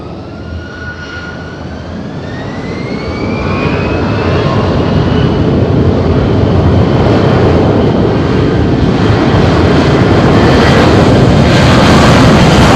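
An airliner takes off at Madeira Island Airport on a windy day, its engines rising from a whine into a loud, sustained roar with a climbing turbine tone that builds and stays strong.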